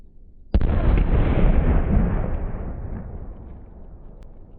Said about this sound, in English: it's a watermelon being destroyed by a firecracker the size of a stick of gum